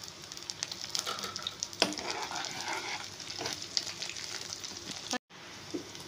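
Vegetables, garlic and capsicum sizzle steadily in a hot pan for veg manchurian, with frying crackle and occasional stirring scrapes close by, a short cut near the end.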